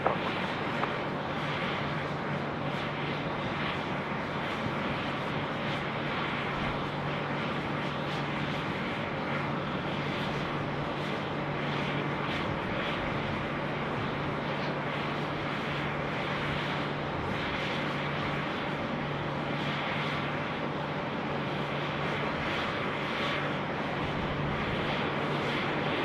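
Airliner on final approach and landing on runway 34 left at Sydney Airport, a faint, steady engine drone with a low hum throughout and no talking.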